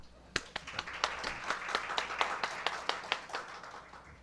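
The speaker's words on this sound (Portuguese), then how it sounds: "Por favor, uma salva de palmas para ele." A small group claps steadily at a law lecture, close and moderately loud, with individual hand claps clearly distinguishable as the applause gradually fades.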